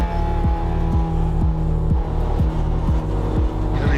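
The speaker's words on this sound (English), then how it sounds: "We've got a big field here for Circuit XL for trophy class as cars make their way out onto the track." Trophy-class race cars at Circuit Excel, a loud steady engine drone with a repeating throbbing pulse roughly every half second, close and continuous with no voices over it.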